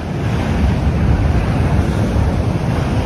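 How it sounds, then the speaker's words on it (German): Rough sea surging against a Moroccan coastline near a hot spring, a steady loud roar of breaking waves mixed with heavy wind buffeting the microphone, with no voices. "Da tobt das Meer!"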